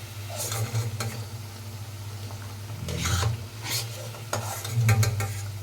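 Gram flour and potato snacks fry in hot oil, producing a soft, steady bubbling sizzle with a few brief scraping and rustling stirs.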